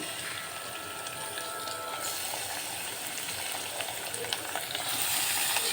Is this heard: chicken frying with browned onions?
yes